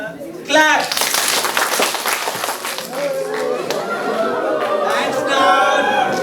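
An audience in a hall claps their hands at an entrepreneurship education session. A dense patter of clapping rises, then fades into crowd chatter and talking.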